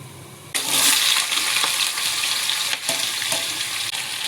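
Potatoes and chili hitting hot oil seasoned with panch phoron for a Bengali potato-tomato curry, a loud sudden sizzle bursting in after a quiet start and then hissing steadily without talk.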